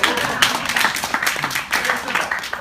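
Hand claps from a lone presenter at a business opportunity presentation, a run of sharp, fairly close claps in a steady rhythm against a busy, reverberant room.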